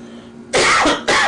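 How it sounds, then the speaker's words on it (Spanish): A speaker coughs twice in quick succession, sharp and close, after a brief quiet moment. "Ahí me dio tosecita."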